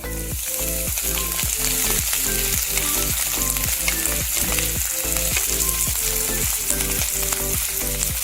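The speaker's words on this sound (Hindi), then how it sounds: "पहले हम थोड़ा सा जिंजर, ग्रीन चिल्ली डाल के इसको थोड़ा सा पका लेते हैं" Ginger and green chilli frying in a pan for chop suey, a steady dense sizzle throughout with repeated rhythmic scraping or stirring strokes, loud and close with no talk.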